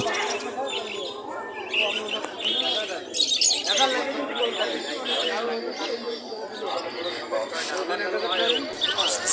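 Birds chirp and coo continuously amid busy crowd chatter, with voices talking throughout, at a weekly pigeon and bird market in Nayabati, Khulna, with cockatiels, budgerigars and doves.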